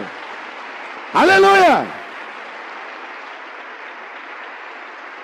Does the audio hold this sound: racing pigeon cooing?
no